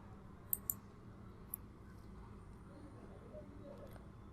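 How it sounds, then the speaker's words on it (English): Mouse clicks on a checkbox and then a save button: three small, sharp clicks spaced apart early on, faint over a low steady background hum. "you can select this checkbox and click on save"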